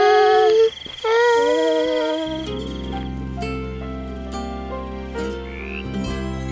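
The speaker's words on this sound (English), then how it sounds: "Oh, a frog!" A cartoon frog croaks over a bright, sustained musical backing, the croak loud and close in a children's animated scene.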